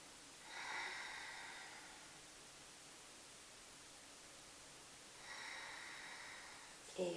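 Two slow, deep breaths, an inhale and exhale each time, taken while a yoga bridge pose is held. The breathing is soft and close, with quiet pauses between the breaths and no talking.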